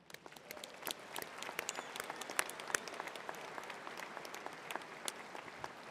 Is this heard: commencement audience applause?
yes